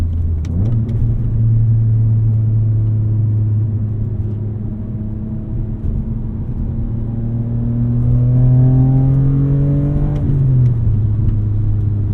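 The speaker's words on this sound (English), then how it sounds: "It is just that the S54 is a glorious engine." A BMW E46 M3 with the S54 straight-six revs close and loud: a deep idle jumps up, holds, then climbs in a rising howl before dropping back, with no talking.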